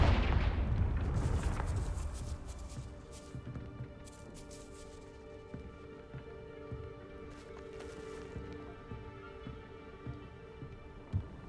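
Confringo blasting-spell explosions in Hogwarts Legacy: a heavy booming blast opens with a rumbling decay, followed by scattered crackling bursts and lighter impacts over a low, tense game soundscape.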